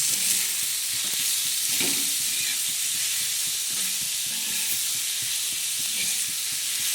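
Onions and green chillies fry in a pan for a spicy thecha, with a steady close sizzle and repeated scraping stirs of a spatula, no talking.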